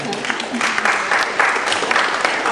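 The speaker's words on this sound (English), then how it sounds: "Give Mr. Ricky Jones a round of applause" A crowd breaks into steady, dense applause, many hands clapping at once and sustained throughout.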